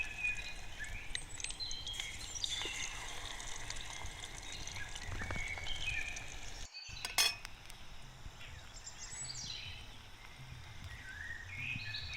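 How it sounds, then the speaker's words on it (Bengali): Pakoras sizzle quietly in hot oil, a soft continuous crackle broken by occasional clinks of a utensil against the pan. "এইভাবেই সব পকোড়াগুলোকে ভেজে নেব"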